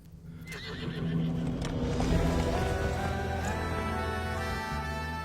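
A horse neighs loudly and close by, a long whinny that swells and then fades, with hoofbeats under it in a historical film setting.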